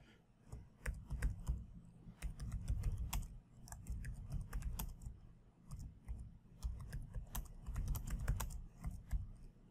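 Steady, rapid typing on a computer keyboard, dense clicking keystrokes close up and fairly soft, continuing without pause for about ten seconds.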